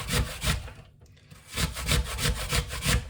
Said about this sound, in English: So we're just going to grate everything onto this plate.